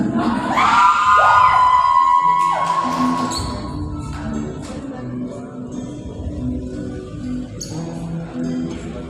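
Crowd at a launch event screaming and cheering loudly, the roar swelling at first then easing into ongoing background shouting.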